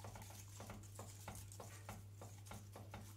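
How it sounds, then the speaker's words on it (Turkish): A Turkish delight mixture is stirred steadily in a pot, with a spoon scraping the bottom in repeated soft strokes under a constant low hum and faint bubbling. No one speaks. "Dipten dipten karıştıralım"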